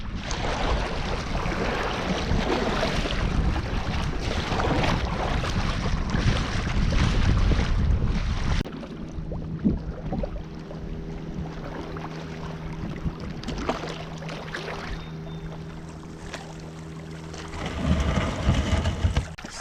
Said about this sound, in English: It's a windy one today. Got a strong headwind I gotta go up against.